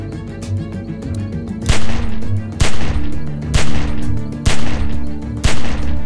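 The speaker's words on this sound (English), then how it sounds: "Just shoot at the window and keep that fucker's head down till I get where I'm going." Game gunfire in The Walking Dead 400 Days as a window is shot at: heavy sharp shots bursting roughly once a second over a low rumbling ambient bed, loud and close, with no talking.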